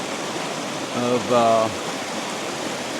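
A creek waterfall spilling over moss at Cathy's Creek in North Carolina, a steady broadband rushing hiss heard close and constant, with a brief spoken word over it midway.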